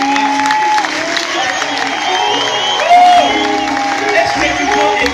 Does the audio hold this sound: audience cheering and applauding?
yes